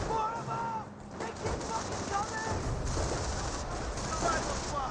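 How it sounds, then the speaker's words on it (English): Rapid .30 cal machine gun fire and scattered battle noise in Company of Heroes 1, a steady dense rattle under the ongoing mix of combat sounds and chirping effects. "Does receive a bit of a 30 cal fire."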